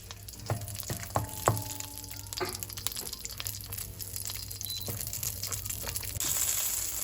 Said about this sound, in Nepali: तामा भुटेकै घिउमा मैले अब यो हरियो खोर्सानीलाई पनि एकछिन फ्राई गरेर झिक्छु।